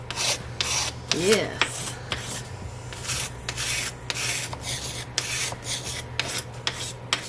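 A foot file rasps across an antique succulent planter to scuff its surface, producing steady back-and-forth gritty scraping strokes, close and fairly loud, with a brief spoken word.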